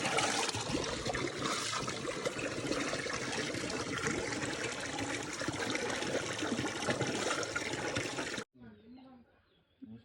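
Ponni rice being washed for a birthday biryani, a steady close rush of running and splashing water that continues for about eight seconds before stopping abruptly, leaving faint background voices.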